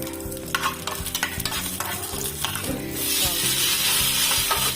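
Green chilies, mustard seeds, curry leaves and garlic frying in hot oil, with steady close sizzling, spoon stirring and scraping against the pan, and the sizzle swelling louder in the second half.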